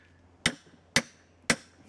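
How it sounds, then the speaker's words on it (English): Three sharp, evenly spaced blows from a cross-pein blacksmithing hammer driving tight metal rings onto a wooden beetle mallet head, each a crisp knock with a short ringing tail. "I'm hammering the rings on with one of my blacksmithing hammers"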